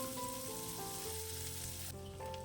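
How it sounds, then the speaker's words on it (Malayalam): Thinly sliced onion sautéing for rava biriyani, a steady quiet frying sizzle with no talk, faint and continuous throughout. "ഇനി ഈ സവാളയൊന്ന് വഴറ്റിയെടുക്കണം."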